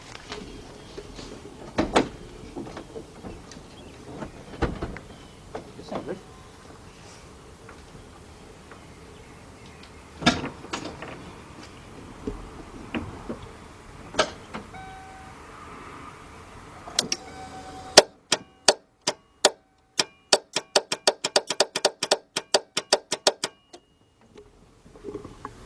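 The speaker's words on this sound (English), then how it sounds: "you're going to actually hear the solenoid click" The starter solenoid of a 1991 Mercury Cougar 3.8 that clicks but won't start gives scattered sharp clicks, then a fast run of near, crisp ticks toward the end that taper off into silence.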